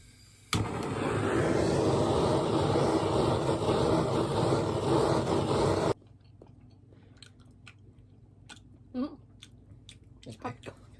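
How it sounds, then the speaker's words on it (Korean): Someone chews a fatty cut of pork or salmon with a soft, wet mastication, loud and close for about five seconds. It then drops to faint scattered sounds and brief voices. "이 기름진 부위를 먹어볼게."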